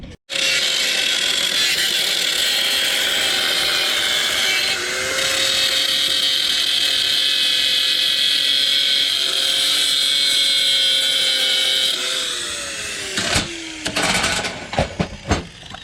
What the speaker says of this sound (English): Cut the screw off the backside and then weld that.